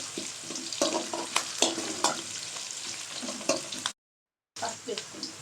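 Capsicum masala curry frying and being stirred in a pan, a steady close sizzle broken by repeated scraping clacks of the spoon, with a brief gap of silence near the end.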